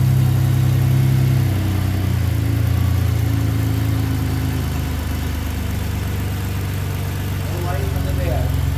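A 2011 Ford Explorer running at a steady low idle after a new powertrain install, a close, even engine hum that settles lower, with people talking over it.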